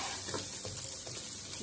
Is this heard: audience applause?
no